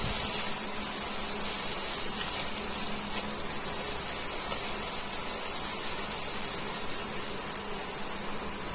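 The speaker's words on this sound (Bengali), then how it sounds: "এইবারে ওর মধ্যে দিয়ে দেব টমেটো কুচি। টমেটো কুচিটাকে একটু ভালো করে কষবো।" Chopped tomatoes sautéing in a pan for cholar dal, a steady close sizzling hiss that holds even and continuous throughout with no talk.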